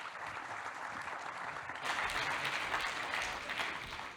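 An audience applauds at the EO Commercialisation Forum 2024, a steady wash of many hands clapping that swells louder partway through and holds to the end, with no one speaking.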